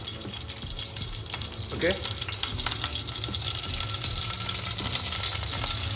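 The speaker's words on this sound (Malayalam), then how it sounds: "ഉലുവ പൊട്ടിയ സൗണ്ട് കേട്ടില്ലേ?" Fenugreek seeds crackle and pop in hot coconut oil in a pan, a close steady sizzle with small sharp pops, while a voice briefly speaks.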